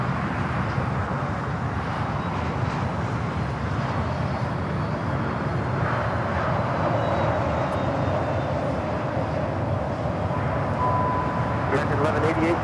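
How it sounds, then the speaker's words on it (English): An American Airlines Boeing 787 Dreamliner rolls for takeoff on runway 25R at Los Angeles airport, a steady broadband engine roar held throughout at moderate distance with a faint high whine on top. "here on the south side, we have the American Dreamliner now rolling on 25 right"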